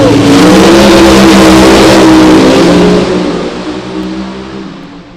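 Mustang funny cars at a drag strip roar loudly as engines rev and launch, a dense, powerful blast that holds for about three seconds and then fades as the cars pull away.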